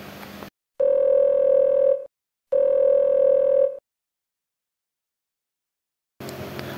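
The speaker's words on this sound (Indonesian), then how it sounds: "Telepon Oyo aja" Phone ringback tone in Sakura School Simulator: two long, loud, steady beeps separated by a short silence, then a longer pause, with brief background sound at the start and end.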